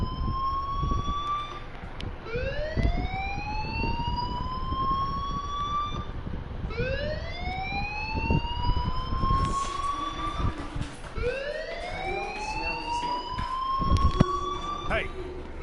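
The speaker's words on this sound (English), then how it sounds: "Hey, do you hear that fire alarm?" School fire alarm in the Life Is Strange video game on PS4, a rising electronic wail that repeats about every four seconds over low background rumble and voices.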